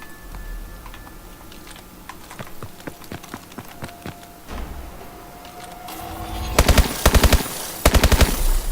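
Gunfire in the video game Call of Duty Advanced Warfare starts as scattered single shots and builds to loud, rapid automatic bursts near the end, with no talking.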